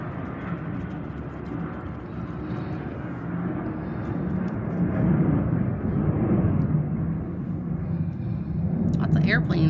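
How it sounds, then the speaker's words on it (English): A broad, distant airplane roar rumbles overhead, slowly swelling louder toward the end, with faint background noise. "Lots of airplanes out today."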